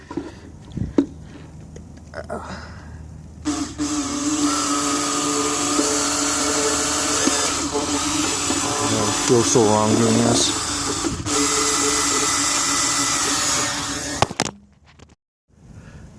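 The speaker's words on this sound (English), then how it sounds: "about to drill the hole here. This is just plastic" A power drill whines steadily at close range for over ten seconds, drilling through plastic on a 2015 Yamaha V-Star 650 Custom motorcycle, with a brief strained dip midway, and a voice speaks over the start.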